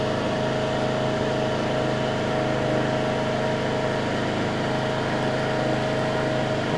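Hyper Tough push mower engine with a stuck, seized history running steadily at idle, a continuous droning hum with no changes in pitch and no voices.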